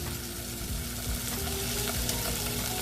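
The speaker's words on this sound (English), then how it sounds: "Give that a quick little stir." Garlic, chipotle chili, Thai basil and tomatoes are stirred in a hot pan, giving a dense, loud, steady sizzle with faint utensil scrapes underneath and no talking.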